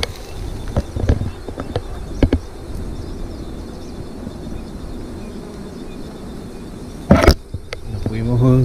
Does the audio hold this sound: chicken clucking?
no